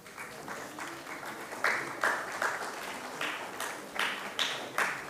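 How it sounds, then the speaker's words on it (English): An audience at an Independence Day ceremony keeps clapping as officers are called up one by one, a sustained round with rhythmic, emphatic claps standing out near the front and a few louder surges. "Please continue with the applause."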